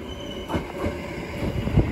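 A JR passenger train runs close by, its low rumble of wheels on rails joined by faint squeals and a few soft clacks.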